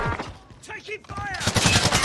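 Rapid machine-gun bursts from an MG-82 in a first-person shooter, crackling in quick sharp volleys that build toward the end, with a brief lull and scattered game effects between them.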